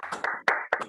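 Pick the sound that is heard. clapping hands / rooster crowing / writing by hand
clapping hands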